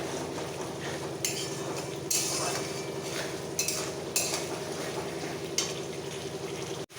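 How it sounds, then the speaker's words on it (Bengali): Tomato and spice masala sauté in oil in a pan, with a low, steady sizzle and several sharp scraping strokes of a spoon stirring against the metal, heard up close. "কষাতে কষাতে যখন তেলটা মশলা থেকে"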